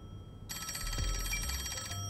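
A telephone ringing in the video game Master Detective Archives: Rain Code, a bright electronic ringtone that starts suddenly after a short pause and repeats steadily at moderate loudness, with no talk over it.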